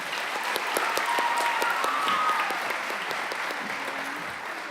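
Audience applause at a high school senior awards ceremony, steady and full for the whole stretch, with many hands clapping at a moderate distance and no talk over it.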